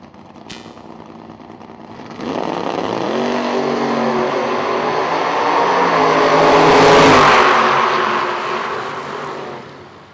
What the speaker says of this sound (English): This is going to be a really good drag race.